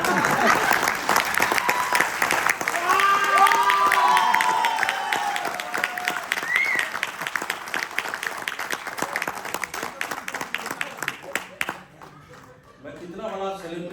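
A large indoor audience claps steadily for most of the stretch, broad and loud, with voices and a few shouts mixed into the crowd noise before the clapping fades out near the end.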